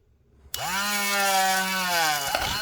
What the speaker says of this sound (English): You can see I'm starting to drill my hole in.